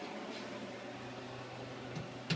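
A microwave oven hums steadily while running with a ball of plasma from a grape inside and a plastic container melting, a constant low drone with a faint crackle near the end.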